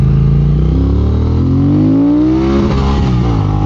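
A 2022 Triumph Speed Twin motorcycle revs hard through a power wheelie, its loud, close engine note climbing steadily in pitch before cutting off abruptly near the top of the revs.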